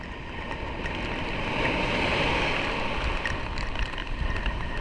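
Rough sea waves churning and crashing in a steady, loud roar of surf near a shore, continuous with no clear breaks and no talk.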